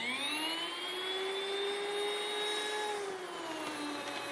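An electric grain mill grinds rice into gluten-free flour with a loud, steady high-pitched whine and rushing noise throughout.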